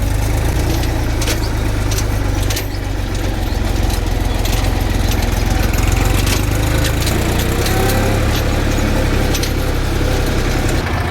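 A Massey or Mahindra tractor engine climbs a gentle dirt slope, a loud, steady low rumble with continuous mechanical clatter and rattling throughout, close and unbroken.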